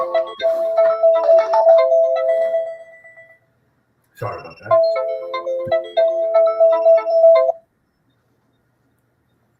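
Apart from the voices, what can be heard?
phone ringing and beeping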